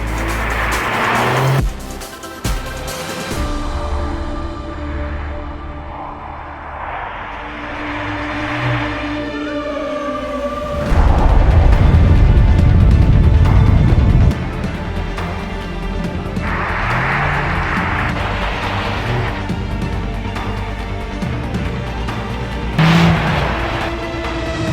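A Porsche 911 GTS of the 992.1 generation driving on ice, its engine revving and rising and falling through gears, with a louder burst of throttle and tire noise midway, steady and close with no talk.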